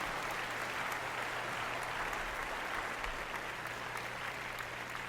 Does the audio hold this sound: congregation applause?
yes